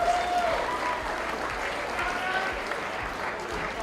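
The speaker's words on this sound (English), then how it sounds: "Another round of applause for Prairie Heights High School." Applause from the audience at a high school esports state finals awards ceremony, a steady wash of many hands clapping for several seconds at a moderate level, with a faint voice briefly at the start.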